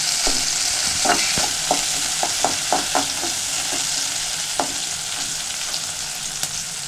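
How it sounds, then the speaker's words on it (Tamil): Fenugreek seeds with green chillies sautéing in a pan for goat blood stir-fry, a steady close sizzle broken by sharp scraping stirs at irregular intervals, no talk. "வெந்தயம் நல்லா ஒரு ரெண்டு நிமிஷம் அப்படி வதக்கிட்டு அதுக்கப்புறம் வெங்காயம் போட்டுக்கணும்"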